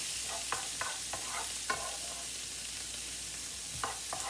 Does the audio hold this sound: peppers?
yes